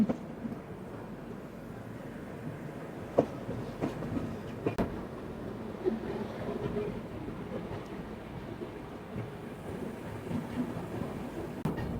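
A train at Araku Valley railway station, heard from aboard a Vistadome coach on the Visakhapatnam to Araku line, gives a low continuous rumble with scattered clicks and knocks of wheels and carriage fittings.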